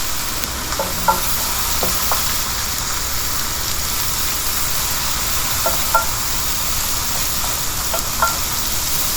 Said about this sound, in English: We need plenty of onions. And we need to saute it nicely.